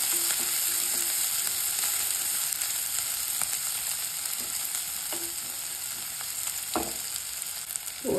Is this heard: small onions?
yes